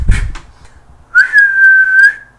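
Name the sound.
person imitating a whistle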